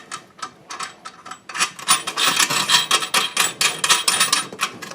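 A wing nut is threaded onto a toilet bolt over a washer during a toilet replacement, making close, rhythmic rasping and scraping strokes that grow busier partway through, with no speech.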